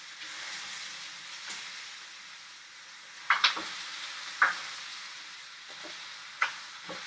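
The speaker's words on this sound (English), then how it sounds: "I'm going to mix it a little bit with the onions that we're cooking in there, so the onions don't get burned on the bottom." Carrots and onions frying in a large pot, giving a steady hiss and sizzle, broken by a few sharp scraping clinks as a utensil stirs the vegetables.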